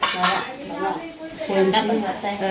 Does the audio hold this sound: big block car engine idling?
no